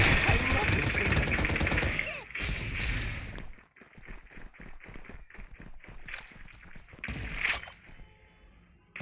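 Rapid bursts of gunfire in the Farlight 84 battle royale shooter, with loud clustered shots at the start and sharp intermittent cracks and spikes afterward, layered over game sounds and music.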